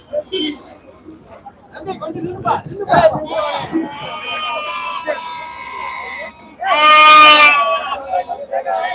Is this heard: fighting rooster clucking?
no